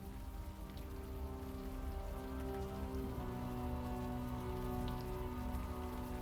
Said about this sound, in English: The rain isn't helping, that's for sure.